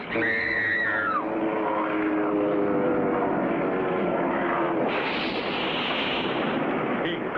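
A cartoon plane rams a giant bug and crashes, heard as a roaring engine whine with dramatic music that swells into a loud, sustained burst of crash noise and rumbling debris, steady and close throughout.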